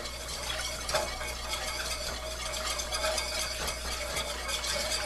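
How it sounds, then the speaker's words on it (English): Garlic and fresh rosemary roux is whisked into a pan of gravy, giving a steady wet stirring and scraping sound with a faint low hum behind it. One or two slightly louder clinks stand out, and nobody speaks. "We're gonna add that to the sauce. And we're gonna whisk it through."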